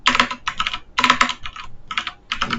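Rapid bursts of keystrokes on a computer keyboard as JavaScript code is typed, clattering in quick uneven runs separated by brief pauses, close and clear with no voices.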